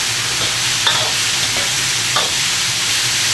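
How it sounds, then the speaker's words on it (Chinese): Beef dropped into a hot oiled pan with Sichuan peppercorns for beef noodle soup gives a steady loud frying hiss throughout, with a couple of brief clatters of stirring, no voices. "牛肉下锅，"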